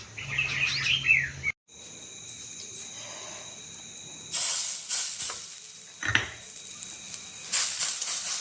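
Birds chirp and tweet in short bursts, with a steady hissing background and a brief dropout partway through.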